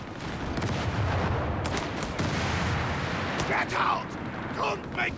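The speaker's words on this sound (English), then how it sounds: "Now the machine gun's going to cycle in there." Machine gun fire in the strategy game Company of Heroes 3, a dense, continuous rattle of rapid shots under battle noise, fairly loud throughout, with a few sharper bangs toward the end.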